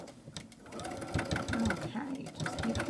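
A sewing machine stitches a clutch wallet with credit card slots, giving a fast, even mechanical whirring and thumping that runs throughout, close and steady.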